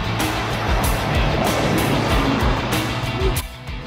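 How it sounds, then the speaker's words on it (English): A bus passing close by on a city street, its loud engine roar and road rumble swelling steadily, then easing off at the end. "Wait, bus is coming."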